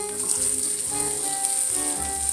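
Provolone cheese fries in oil over medium-high heat with a steady, loud sizzle and bright hiss, punctuated by faint crackling pops throughout.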